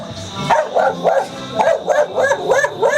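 A puppy barks and yips repeatedly in quick, rhythmic bursts, loud and close, with a few whimpering tones between barks and no talking over it.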